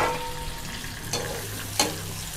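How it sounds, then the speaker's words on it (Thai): Shrimp for a Thai basil stir-fry are tossed in a pan over high heat, a continuous close sizzle marked by two sharp spatula scrapes. "เดี๋ยวขั้นตอนนี้เราจะเอาคั่วกุ้งนะครับให้เขาหอมเนาะ"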